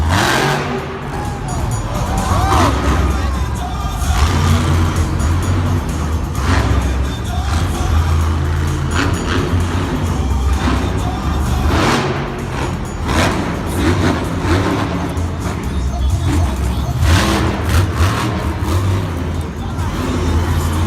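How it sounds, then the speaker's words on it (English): The Monster Mutt monster truck revs its engine during a freestyle run at a Monster Jam event in Lincoln, Nebraska, a loud, continuous roar rising and falling under constant crowd noise and a commentator's voice. "The Monster Mutt truck is here to freestyle."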